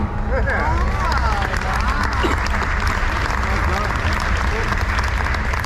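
A tour group in Italy claps amid loud crowd chatter, the scattered clapping blending into continuous nearby voices and hubbub that fill the whole stretch.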